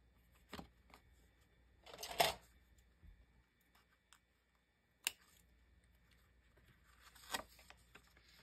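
Scissors snipping the ends off a 5x7 paper greeting card, several separate quiet cuts and rustles spaced apart at close range.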